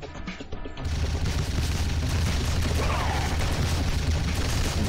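A heavy gun fires in the mobile zombie shooter Zombie Evil 2, as a dense, continuous stream of rapid shots that begins after a brief quieter start and keeps a steady, moderately loud level without pause.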